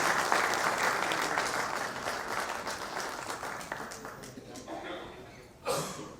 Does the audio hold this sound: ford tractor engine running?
no